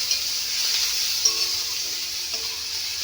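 Crushed garlic sizzling in a hot pan of oil while cooking dhekia fern greens, a steady close frying hiss throughout with a few small pops and no talk.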